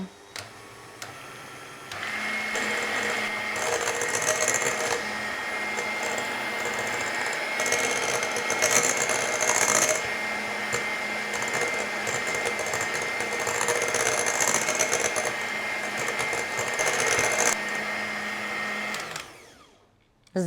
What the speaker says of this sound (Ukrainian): І тепер збиваємо його міксером.